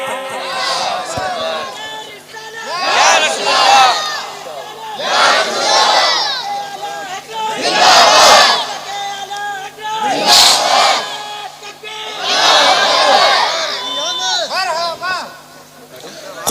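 A large religious gathering roars back in repeated chanted responses to a Naara-e-Takbeer call, several loud bursts of crowd shouting rising and falling across the stretch, with brief quieter gaps between them.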